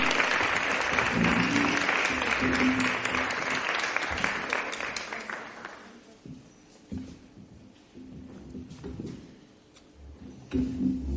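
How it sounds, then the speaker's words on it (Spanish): Audience applause welcoming a speaker at a feminist art practice reflection session, a full, sustained round of clapping that swells for several seconds and then trails off into scattered claps, with quiet voices and shuffling near the end. "así que la recibimos con un aplauso, y Carla Boto, que la va a presentar."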